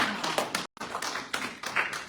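Brief, fairly faint clapping from a small group, with uneven claps, a short gap of silence partway through, then the clapping resumes.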